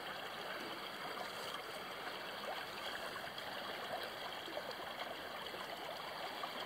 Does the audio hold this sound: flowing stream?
yes